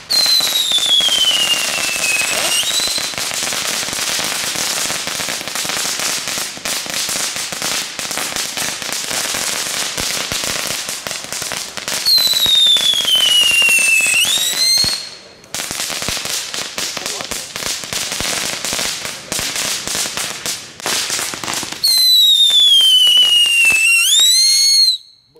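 Fireworks set off in Delft: dense continuous crackling and popping, broken by three screaming whistle rockets that descend in pitch, loud and close, with people chatting in the background.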